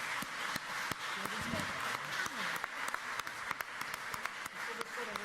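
An audience applauds after a song, steady clapping filling the room at moderate distance, while someone speaks over it.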